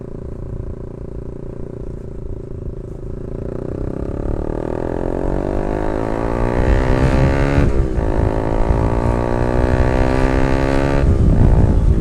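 A Yamaha R15 v2 motorcycle fitted with an SC Project exhaust is ridden on a road, its engine droning loud and close and climbing in pitch through the gears, with brief dips at the shifts.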